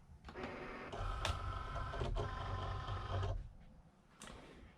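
A Cricut Explore Air 2 cutting machine loading a mat of black cardstock, a close, steady mechanical whir of rollers and motor lasting a few seconds, with short clicks at start and end.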